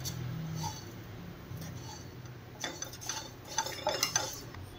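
Coriander seeds dry-roasting in a pan, stirred with a utensil that clinks and scrapes against the metal in quick, uneven bursts that grow busier toward the end, close by and fairly quiet.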